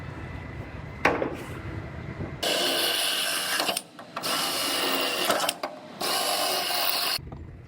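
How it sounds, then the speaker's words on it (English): A drill whirs through metal in several sustained bursts, drilling out spot welds on a Toyota, separated by short pauses, loud and close, with some clanking between runs. "I'm going to drill out these 4 spot welds"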